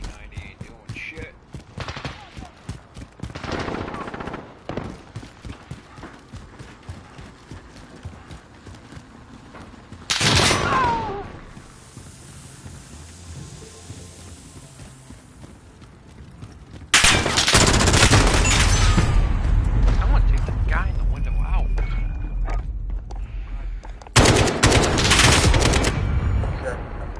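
P90 submachine gun fire in Modern Warfare, long loud automatic bursts separated by quieter stretches of movement and scattered shots, with voices talking over parts of the action.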